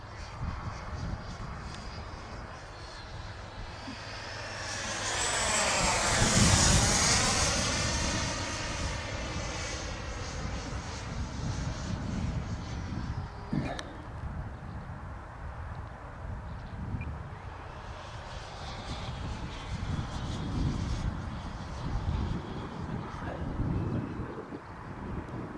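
HobbyKing Vampire RC model airplane in flight with its throttle eased back: a steady electric motor drone that swells into a loud close pass, then fades out under light wind noise.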